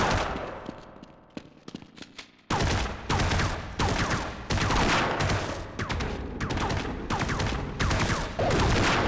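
Rapid gunfire from the Half-Life 1 video game, a dense, loud barrage of shots that starts with scattered bursts and then becomes nearly continuous, with no talking over it.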